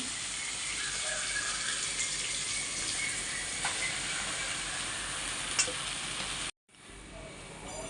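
Uggani seasoning sizzles and fries steadily in a hot pan, a dense continuous crackle with occasional stirring scrapes, cutting off abruptly near the end before quieter frying resumes.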